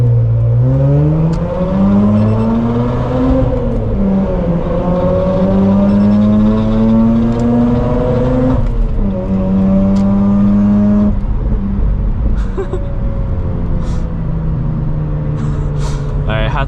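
A car accelerates hard through a tunnel at night, its engine note climbing in pitch through repeated pulls, loud and close with echoing reflections.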